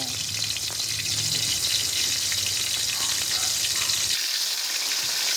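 Fermented fish fries in a pan with a loud, steady sizzle and hiss. A low rumble sits under it for the first few seconds.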